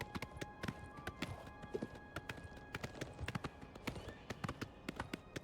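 Horse hooves clip-clopping in the video game Oblivion Remastered, a steady close rhythm of sharp hoof strikes on hard ground at a walking pace, with a faint tonal game ambience underneath.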